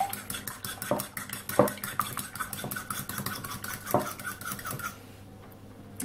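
Two eggs and a splash of milk are beaten in a bowl, a fork or whisk clicking rapidly and rhythmically against the sides with a few sharper knocks before stopping.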